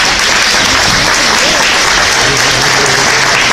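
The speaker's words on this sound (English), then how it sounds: "let us give you the school board members a round of applause" A large crowd at a Christmas benefit gala gives school board members a round of applause, steady dense clapping filling the room loudly and continuously from start to finish.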